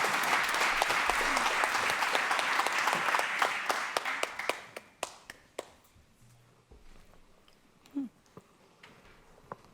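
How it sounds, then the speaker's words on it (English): An audience at a World Food Day event claps loudly for two invited speakers, the dense applause fading after about four seconds into a few scattered, sharper claps and quiet room sound. "A warm round of applause for them."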